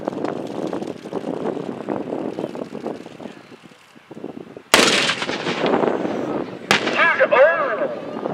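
A 25-pounder field gun fires at a military tanks-and-firepower show, producing two sharp, booming blasts a couple of seconds apart. Each boom rolls out with an echoing tail, and a crowd and announcer talk before and between them.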